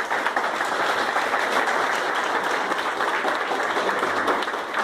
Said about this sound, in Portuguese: o senhor Euridice, salva de palmas para ele